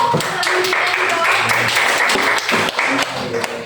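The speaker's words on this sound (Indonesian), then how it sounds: "beri tepuk tangan dulu." Classroom group applause during a guidance counselling session, a brief burst of dense clapping lasting a few seconds, fairly loud and close, with some voices mixed in.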